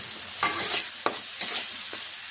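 Shrimp frying in a pan, a constant close sizzle broken by several stirring scrapes at irregular intervals, with no one talking.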